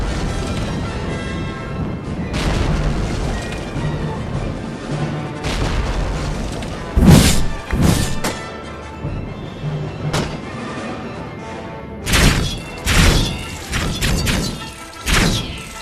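Battering rams pound against hard wall structures in a Minecraft server war, giving a string of heavy, booming thuds at uneven intervals, some in quick pairs, loud and close over a dense, continuous background din.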